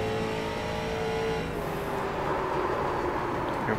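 Streetstock C race car engine in iRacing at USA International Speedway, droning loud and steady with harmonic engine tones that shift and rise partway through, a continuous close-up motor roar.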